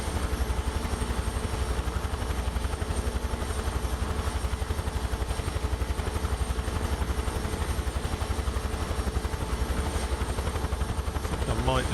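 A simulated UH-1H Huey helicopter flies over Nice and Monaco, its rotor giving a steady, rapid low thump with a constant engine drone throughout, with no one talking.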